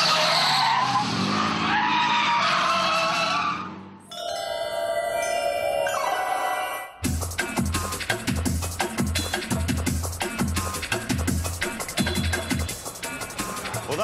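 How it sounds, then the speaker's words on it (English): A drifting car in Japan lets out a harsh, loud tire skid for several seconds. Short tonal squeals follow, then a stretch of rhythmic music. "Drifting is awesome!"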